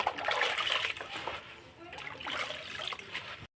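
Water running and splashing as Malabar spinach leaves are washed, a close, fairly loud trickle and splatter that rises and falls with handling before stopping abruptly.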